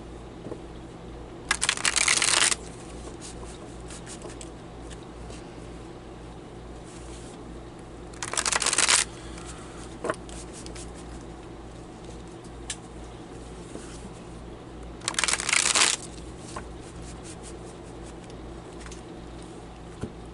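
Tarot cards riffle-shuffled in three brief, crisp bursts close to the listener, with quiet pauses between them and a low steady room hum underneath.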